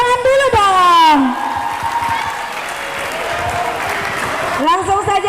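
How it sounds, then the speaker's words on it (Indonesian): Audience applause at a Hari Santri Nasional competition at a modern Islamic boarding school, a sustained wash of clapping from a crowd. A voice and music-like tones sound loudly over it at the start, then return near the end. "Kasih tepuk tangan dulu dong."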